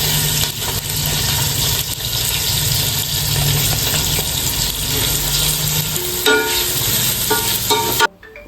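Onions sizzle loudly in hot oil in a pan with whole spices for paneer peas pulao, a dense continuous frying hiss with stirring scrapes, close up, before cutting off abruptly near the end.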